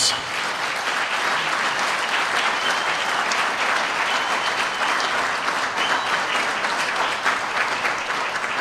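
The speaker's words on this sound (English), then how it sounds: "please give her a round of applause" Sustained audience applause at a Malawian public event welcoming the former Vice President's widow before the President, dense loud clapping filling the whole stretch without let-up.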